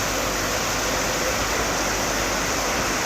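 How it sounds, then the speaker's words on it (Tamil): Heavy rain pours over Kanniyakumari as water runs along the roads: a dense, steady, loud hiss of downpour and rushing runoff that stays constant throughout, with no voices. "எங்கள் கன்னியாகுமரி சரியான மழை."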